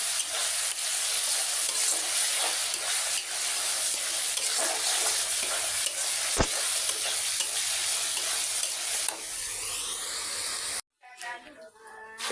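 Dal frying on a gas stove, a loud, dense, close sizzle with stirring scrapes running continuously before it cuts off near the end, where brief talking follows.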